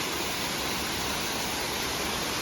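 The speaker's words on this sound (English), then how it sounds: "Yes, it is a kind of small waterfall, isn't it?" Water spills steadily over a small dam in a bird sanctuary forest, a continuous broadband rush with no breaks, close and fairly loud throughout.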